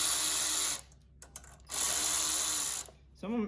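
A power driver spins out the cover bolts on a Briggs and Stratton engine in two loud whirring bursts, with quiet clicks between them and a voice starting at the end.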